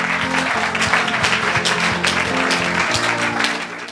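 A church congregation claps, a brief burst of crowd applause with an underlying rhythmic beat, fairly loud and close, tapering at the end.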